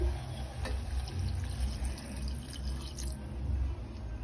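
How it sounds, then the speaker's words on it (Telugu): Water splashes and trickles briefly into a pan of fish curry with tamarind leaves, a short steady pour with faint drips, close by and fairly quiet. "కొంచెం వాటర్ వేసుకోవాలి"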